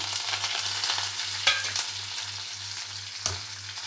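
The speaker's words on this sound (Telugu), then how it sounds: "వేసేసుకొని తాలింపు వేసుకోవాలి వేసి ఫ్రై అవనిద్దాం" Close, steady sizzle of tempering spices, dried red chillies, green chillies and onions frying in oil, with a couple of sharp spoon taps and a low rhythmic hum underneath.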